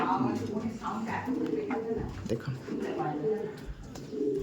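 Andhra pigeons coo softly inside a breeding loft, with low, repeated calls under someone talking in Bengali close by.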